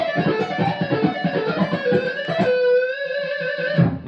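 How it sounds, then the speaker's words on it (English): A distorted electric guitar plays a speedy, alternate-picked scale run with chromatic notes and pull-off pivots, a rapid stream of picked notes ending on a held, vibrating note up close. "It's the speedy, kind of alternate pick scale run with some chromatic notes"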